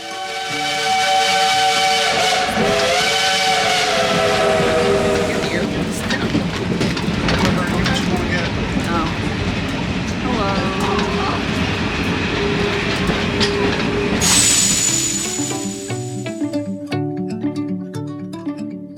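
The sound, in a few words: coal-fired Shay steam locomotive whistling and running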